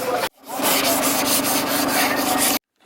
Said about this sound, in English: that's why they're wet sanding the hood, even though it looks perfect.